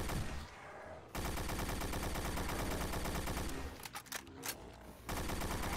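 Heavy rocket barrages from Mancubus enemies in Doom pound away in a dense, continuous roar of blasts and rapid impacts. The noise breaks briefly near the middle and again toward the end before resuming at full loudness, with no talk.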